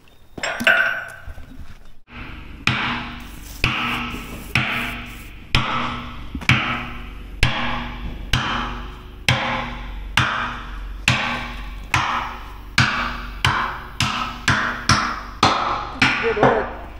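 A sledgehammer pounds steel parts on the blade of a Cat D8K bulldozer, landing around twenty heavy metallic blows at a steady rhythm that quickens toward the end, loud and close and ringing.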